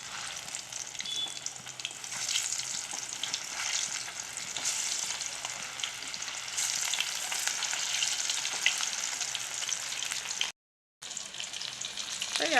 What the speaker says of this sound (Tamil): இப்போ எண்ணெய் நல்லா சூடாயிடுச்சு. நம்ம மீனை இதில் சேர்த்துக்கலாம்.